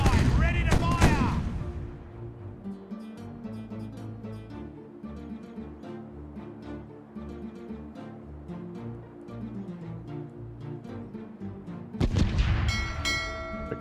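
Cannon fire from a ship's broadside in the pirate game Caribbean Legend, with loud booms and crackling blasts at the start and end and quieter rumbling battle noise and music between, plus a spoken order at the start.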